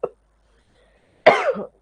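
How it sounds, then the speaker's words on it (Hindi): A man teaching an environmental sciences exam class coughs once, loud and close: a short hoarse burst after a tiny faint sound at the start. "मेरे को खांसी आ रहा है।"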